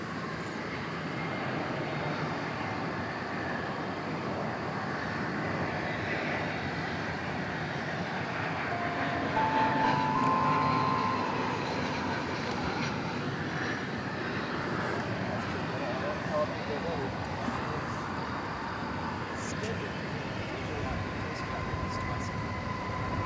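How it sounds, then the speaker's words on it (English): An American Airlines Airbus A321 arrives at DFW Airport from Los Angeles, a low, sustained jet rumble at moderate distance that swells slightly midway, with faint talking alongside. "It's American Flight 2833, Airbus A321, arriving from Los Angeles"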